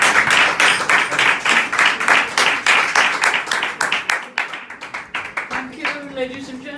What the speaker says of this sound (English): give a big round of applause to Jilliana